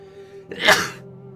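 A single sharp sneeze, close and loud, rising from a quiet room hum and fading within half a second.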